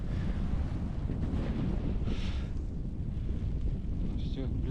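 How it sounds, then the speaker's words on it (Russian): Strong wind gusting across frozen lake ice during a snowstorm while ice fishing, buffeting the microphone with a steady, loud, rough rumble; faint voices are buried under the roar. "ветер жестко дует"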